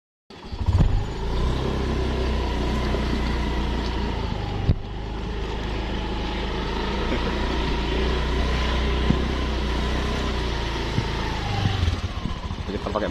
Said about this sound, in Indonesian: Kita pakai motor ya.